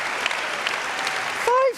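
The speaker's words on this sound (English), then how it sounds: "And that deserves a round of applause." An audience at the World Cheese Awards in Bern, Switzerland applauds in a steady wash of clapping, with a host's voice breaking in near the end.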